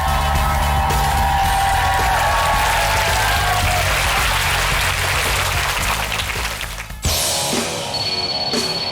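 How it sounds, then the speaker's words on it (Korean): Loud, dense cheering and applause from a studio audience at the start of a makeup-artist battle round on a Korean talk show, a steady roar that drops off sharply near the end, leaving quieter clapping. "여러분의 뜨거운 함성으로 출발합니다"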